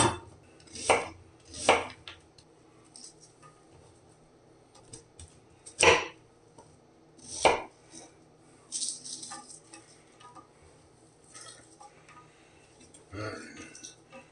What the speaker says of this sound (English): This is how I cut my onions anyway.